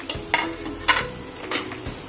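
Grated fresh coconut stirred and lightly sautéed in a pan while making coconut barfi, giving soft scraping stirs and a gentle sizzle in a few short bursts, close by with no talk.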